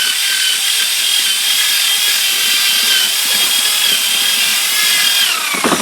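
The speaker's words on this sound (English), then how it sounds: "Toilet brush and a drill." A power drill spinning a toilet brush to peel potatoes whirs steadily with a high, continuous spinning tone and scraping rub, running for several seconds before winding down at the end.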